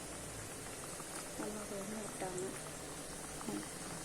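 Atta biscuits frying in hot oil on a stove, a faint, continuous bubbling sizzle heard close, with someone talking quietly over it.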